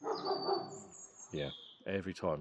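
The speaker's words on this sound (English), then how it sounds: "Every time I sit out here, it fucking barks." A dog barks outside in a quick run of sharp, fairly close barks, following and overlapping a man's speech.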